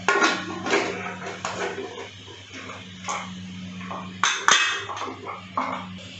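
Metal pot lid set onto a pot of mutton curry in a home kitchen, giving a few clanks and a sharp ring near the middle over a steady low hum.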